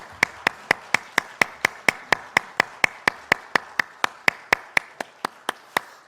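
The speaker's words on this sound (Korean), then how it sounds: "박수 하나님께 올려드리겠습니다." Congregation clapping in unison in a Korean church service, about two dozen sharp, evenly spaced claps in a steady rhythm, close and crisp with no talk.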